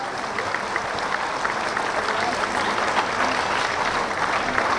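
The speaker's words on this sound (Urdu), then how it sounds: "سارے بچوں کو، ساروں کو کہوں گا کہ تالیاں بجائیں ریاض صاحب کے لیے سب سے پہلے" Children and guests clap together at a prize event hosted by the Peshawar Press Club, dense sustained applause filling the room at fairly close range with no clear speech.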